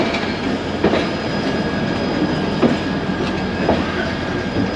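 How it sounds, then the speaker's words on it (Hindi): A local KCR commuter train at Karachi City station rumbles steadily with rail clatter and faint wheel squeal, a few louder clacks standing out in the continuous noise. "लेकिन जो KCR ट्रेन है ये प्लेटफॉर्म नंबर 5 पर जाएगी"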